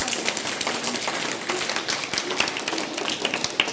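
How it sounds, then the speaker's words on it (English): A Class 1 classroom of children applauds a student's model of geometric shapes, a dense, fairly quiet patter of small hands clapping steadily without a pause. "Please give a big applause."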